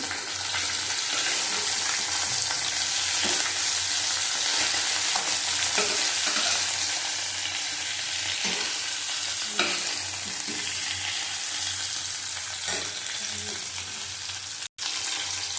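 Catla fish frying in a wok crackles and sizzles continuously at close range, with occasional scraping and stirring knocks over the steady hiss and no one speaking.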